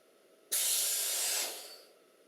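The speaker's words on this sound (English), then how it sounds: "just let the blow-off valve go on the compressor" Air bursts from a compressor blow-off valve during PC graphics-card installation work, a sudden loud hiss starting abruptly, holding steady for about a second, then tapering off. No one speaks.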